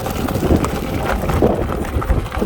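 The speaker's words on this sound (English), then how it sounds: "Let's see how this bike deals in gravel." A DYU V8 moped-style electric bike rolls through slippery gravel, with a steady loud crunch and rumble of tires on loose stones and wind buffeting the microphone throughout.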